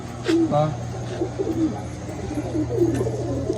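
Pigeons coo in a loft, several soft low throaty calls repeating across the stretch over a steady hum, with people talking nearby.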